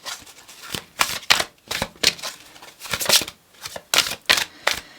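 A deck of oracle cards shuffled by hand in a series of quick riffling bursts, close and crisp, with short pauses between them and no talking.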